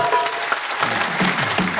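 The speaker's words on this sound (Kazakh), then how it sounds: "Бір қол шапалақтар болса" Brief burst of audience applause at a stage performance, a dense patter of many hands clapping together in a hall for under two seconds.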